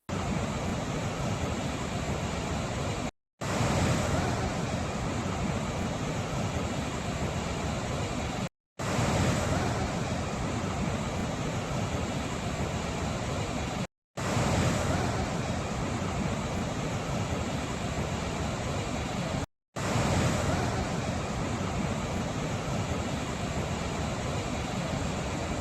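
The Bogatha waterfall in Mulugu's dense forest roars with a loud, steady rush of falling water, heard in several long stretches broken by brief silent cuts.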